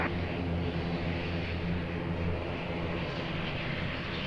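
A fixed-wing airliner takes off from runway 02 at Lisbon Airport, its engines holding a steady, broad roar with a low droning hum throughout, fairly loud and unbroken, with no talk.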